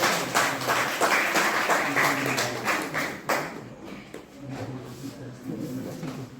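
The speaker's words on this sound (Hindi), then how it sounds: "जोरदार तालियों से" Applause from a teachers' day celebration audience, a dense crowd clapping that swells and then thins, with bits of voices and tonal sound mixed underneath.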